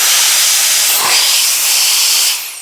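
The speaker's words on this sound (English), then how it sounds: "use your compressed air again" Compressed air blasts into the trigger assembly of a Benelli 828 U over-and-under shotgun, one steady loud hiss lasting over two seconds before tapering off.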